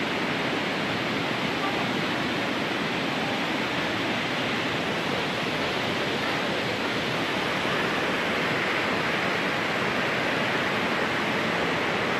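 Steady, broad rushing of flowing water, continuous and fairly loud throughout with no pauses or other sounds standing out.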